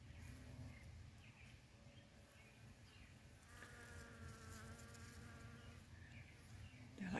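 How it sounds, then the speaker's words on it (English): Bees buzz around gorgeous garden flowers in late May, a soft, steady outdoor hum with some faint bird calls and swelling slightly louder partway through, with no talking. "look at the bees. They're so happy."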